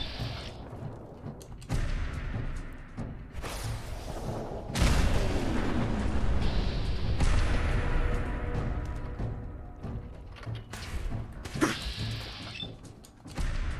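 Fat Man nuke launcher fired in Fallout 4 video game, mechanical clanks followed by a deep heavy boom and a long rumbling roar, with further bangs and crashes after, no talking.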